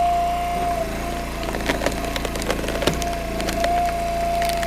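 A single wedge splits a big knotty pine log, giving repeated cracking, splintering creaks and sharp snaps over a steady engine hum, close and fairly loud, with no voices.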